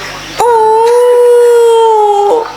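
A human voice imitates a jackal's howl, one loud sustained wavering tone held for about two seconds and close to the listener.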